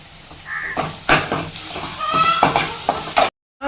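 Grated raw mango being stirred in a frying pan, with a soft sizzle and scraping strokes in irregular bursts, fairly close, ending in a brief silence.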